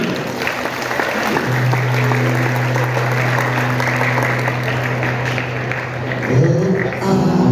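Applause rises from an audience at a Maulid Nabi gathering in Batam, steady clapping that swells under a sustained guitar or keyboard tone before picking up again near the end.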